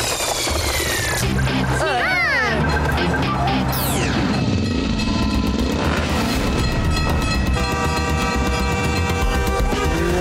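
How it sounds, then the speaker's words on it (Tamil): A train rumbling past, a continuous heavy roar with sweeping high tones over it, loud and unbroken throughout. "உனக்கு முன்னாடி ட்ரெயின் கிராஸ் ஆயிட்டு இருக்கு."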